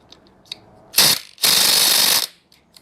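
Wrench or key working against the oil plug of a BMW E92 335i N54 differential: two dense metallic clicking bursts, the second longer and steadier, with faint ticks around them, close and with no talk.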